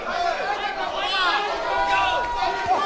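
A boxing crowd at a World Series of Boxing bout chants "USA" in a dense, continuous wash of many voices that stays loud and steady throughout.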